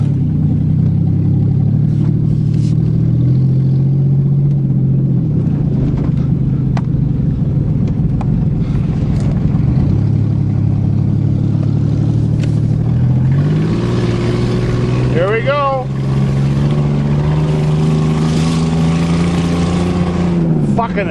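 Ford Taurus with no power steering on a test drive, its engine droning loudly throughout, pitch rising and falling as it revs and shifts, with a sharp rev climb late on and a voice talking over it.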